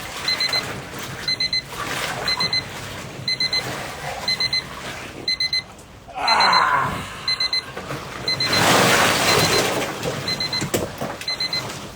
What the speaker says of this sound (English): It's about to beep on me.